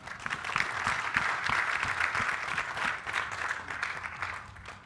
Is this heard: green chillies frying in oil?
no